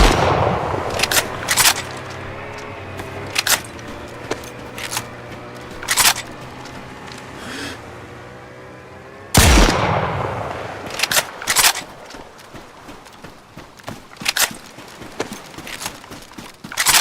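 Sharp gunshots in the survival game DayZ, a scattered series of loud, crisp cracks spaced irregularly, one heavier boom midway, with no talking.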